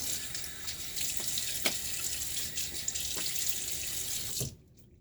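A bathroom tap runs steadily into a sink while the face is wetted before shaving, a close continuous splashing rush with a few drips, stopping abruptly near the end.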